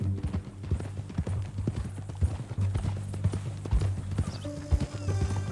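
In the video game Red Dead Redemption 2, horse hooves clip-clop at a steady walking rhythm, with the horse snorting or whinnying briefly near the end over a low ambient hum.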